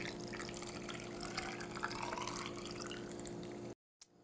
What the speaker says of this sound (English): now we have our brine and we just pour it in.